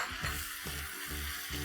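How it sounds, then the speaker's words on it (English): Onion and cashew paste sautéing in a pan over high flame, a soft continuous sizzle with regular stirring scrapes pulsing about every half second, fairly quiet and close. "I'm going to saute this for a minute"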